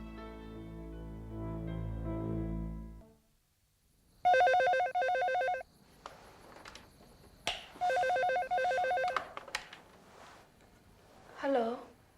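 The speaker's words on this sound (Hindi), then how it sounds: "आशीष, तुम क्यों फोन किया तुमने?" A telephone rings in two electronic trilling bursts separated by a short pause, loud and close, following a stretch of tonal background sound, with a voice speaking at the end.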